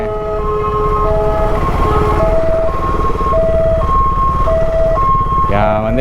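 A two-tone ambulance siren alternates steadily between high and low pitches, loud and fairly close, over rumbling road noise and faint voices, in New Delhi near India Gate.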